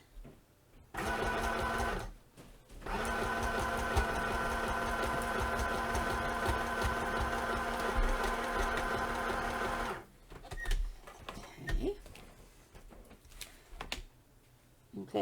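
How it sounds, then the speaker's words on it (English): A sewing machine stitches lace down the middle of a craft piece in a close, rapid, whirring chatter that runs in a short burst, pauses, then continues steadily for several seconds before stopping, followed by light handling noises. "Sew down the middle of that."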